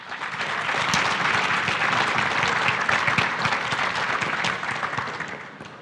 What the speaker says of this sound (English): give him a great round of applause, will you please?